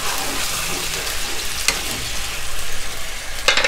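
Steady sizzling of food frying in a hot wok with scraping stirs while cooking Hong Kong-style rad na with marinated pork, a couple of sharp metallic clanks near the end.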